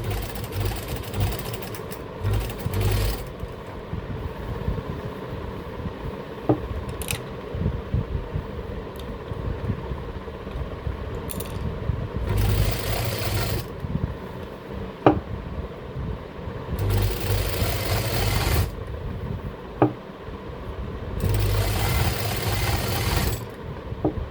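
A sewing machine stitches the hem of a kurta in bursts of steady mechanical whirring, several runs separated by short pauses, close and fairly quiet over a low hum.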